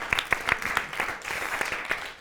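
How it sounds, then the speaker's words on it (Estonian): Audience applause in a studio comedy show, a quick run of sharp, regular claps that sounds dense and steady for about two seconds. "teeme aplausi Johannes Vaherile."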